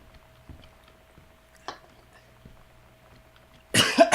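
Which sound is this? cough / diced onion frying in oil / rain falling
cough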